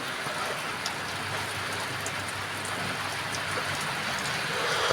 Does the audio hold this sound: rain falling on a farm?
yes